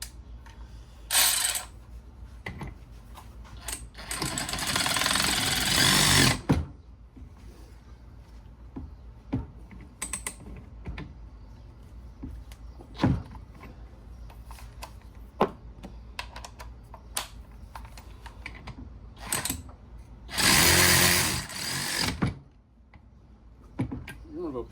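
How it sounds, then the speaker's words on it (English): A DeWalt ratchet driving fasteners on a Honda GX390 water pump, heard as bursts of rapid clicking ratcheting with two longer loud runs, scattered single ticks and taps between, close by. "Got a new tool here, the DeWalt ratchet."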